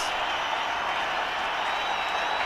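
A packed cricket stadium crowd of nearly 50,000 applauding a top-class innings in a 2005 India vs Sri Lanka ODI, a steady, distant wash of clapping and cheering throughout.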